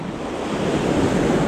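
Strong ocean surf crashing onto the beach at Nusa Lembongan, Indonesia, a steady loud roar of breaking water pushing stones, with wind buffeting the microphone throughout.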